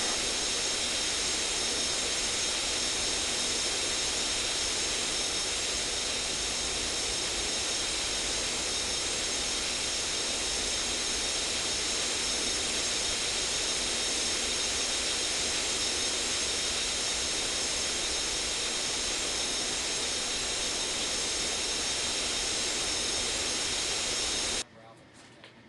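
Jet airliner taking off in an air traffic control video game: a steady, loud roaring rush of engine noise holds for about 25 seconds, then cuts off abruptly.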